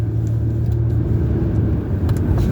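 Car tires rolling over a rough, poorly paved street, a steady close rumble of road noise and engine that holds at constant loudness throughout with no talking.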